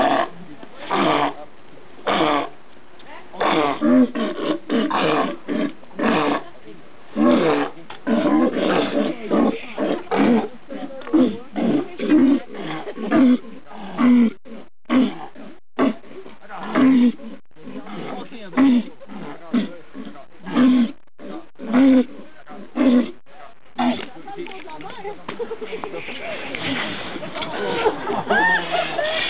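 Walruses at a Quebec aquarium park give repeated low, throaty bellows and calls in an irregular series, close and loud, mixed with people talking in French and splashing water.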